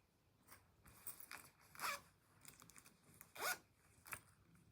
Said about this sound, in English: And the zippers. Yes, they work.